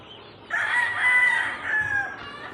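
Backyard pet chickens with a rooster crowing clearly and nearby, a single drawn-out call of about two seconds, with faint clucks around it.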